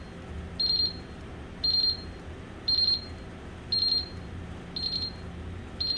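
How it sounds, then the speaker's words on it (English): A Honeywell Analytics gas detection supervisory alarm beeps in regular bursts, about one each second, each a high piercing tone over a low steady hum. "Gas sensor. Supervisory alarm."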